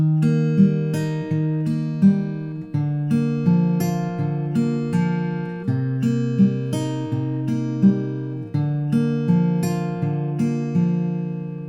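Fingerpicked acoustic guitar playing the verse riff of a song, a steady rolling picking pattern of bright plucked notes over ringing bass strings, repeating evenly, close and clear with no voices.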